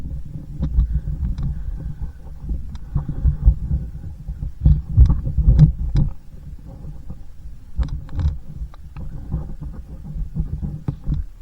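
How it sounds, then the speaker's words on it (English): Minibike engine putters along during a ride, a low rumbling, throbbing drone with irregular pulses and bumps, close and continuous throughout. "Going for a ride on the mini bike."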